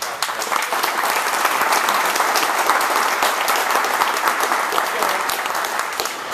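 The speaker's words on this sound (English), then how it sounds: "Let's give them a round of applause." Sustained audience applause for a retiring technician at a Bill Jacobs Joliet dealership send-off, a dense, steady wash of many hands clapping that stays loud throughout and eases slightly at the end.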